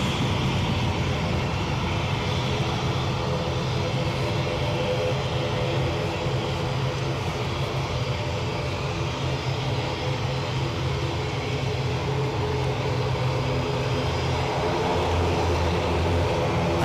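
Jet engine roar from an aircraft departing Newcastle airport for Dublin, a steady loud broadband rumble sustained throughout with no talk.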